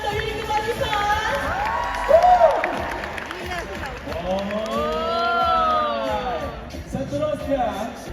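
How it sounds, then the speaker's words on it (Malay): An audience at a school mock trial event applauds and cheers loudly, with whoops and children's shouts over a steady roar of clapping, and a voice talking through part of it. "Boleh berikan tepukan untuk Unit Kebarisan?"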